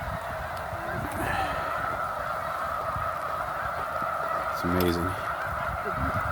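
A huge migrating flock of snow geese honks continuously at Middle Creek Wildlife Refuge, a dense steady chorus from a distance with a closer burst of honking near the end, and a voice speaks briefly over it.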